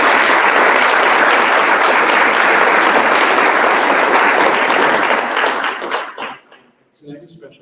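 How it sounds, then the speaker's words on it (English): At a board of education meeting, a loud, close crowd claps for about six seconds before the applause fades out and a voice begins speaking. "A big round of applause for"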